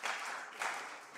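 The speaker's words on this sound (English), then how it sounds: "A round of applause for" Audience applause at an international Pan-African conference, a steady broadband patter of many hands filling the short span, swelling briefly near the middle, with no voices over it.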